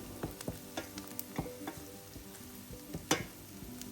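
Crushed garlic and chilli powder sautéing in a home kitchen pan, with a steady low sizzle and repeated spatula scrapes and taps at an uneven rhythm, close by and moderately quiet.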